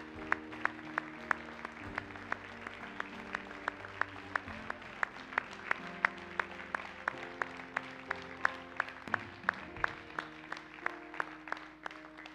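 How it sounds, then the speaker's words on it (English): Congregation at a night revival service clapping in a steady, even rhythm, many hands together, moderately loud and sustained throughout, with no talk over it. "Let's continue to clap as they're coming tonight."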